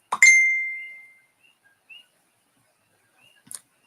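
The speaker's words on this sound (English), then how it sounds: "I have to figure out how to get my phone to stop dinging" A phone notification gives a single clear ding that rings out and decays over about a second, followed by a few faint short blips and a small click in otherwise quiet surroundings.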